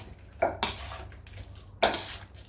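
Light scraping and clinking of a utensil stirring pork rinds in a pan, with a few sharper scrapes among softer rustling.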